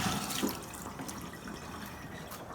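Kombucha poured out into a kitchen sink, a steady splashing stream of liquid running for a couple of seconds, close and moderately loud, with no talking.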